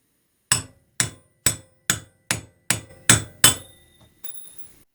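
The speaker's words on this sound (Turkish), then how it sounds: "arkadaşlar çivi keserek ağız testini yapacağız" Forged axe made from a truck leaf spring chopping through nails in an edge test: eight sharp metallic strikes in a steady rhythm, each ringing briefly, then a softer final scrape, loud and close with no talk.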